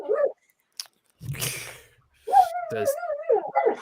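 A dog making whiny, yelping noises up close, a few short vocal bursts with a longer wavering whimper, heard between and under people talking.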